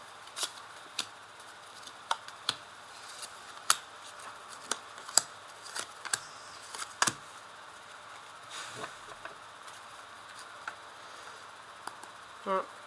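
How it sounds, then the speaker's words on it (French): Tarot cards being laid out one by one on a table indoors, giving sharp, light snaps and taps at irregular intervals over a quiet background, with a soft rustle near the end. "Alors je vais placer les cartes."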